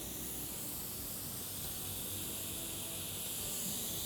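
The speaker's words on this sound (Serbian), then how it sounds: "Ja uvek mnogo volim ovaj zvuk pečenja." Lemon pieces dipped in sugar hiss on a hot grill pan, making a soft, continuous spray-like sizzle that stays faint and even from start to finish.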